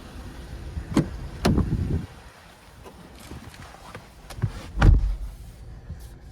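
Someone climbs into the driver's seat of a 2023 Chevrolet Blazer 2LT with a 2.0-litre turbo four-cylinder, with a few sharp thumps and a loud door slam near the end, close and clear in a quiet cabin.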